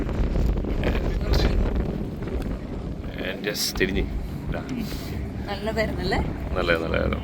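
Strong wind at a Maldives harbour after sunset buffets the microphone with a continuous low roar, while people talk over it throughout.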